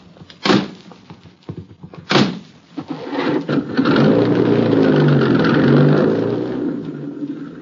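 A taxi cab door shuts with two heavy thunks, and then the car's engine starts and revs up as it drives away, loud and close, with the engine roar holding steady before easing off.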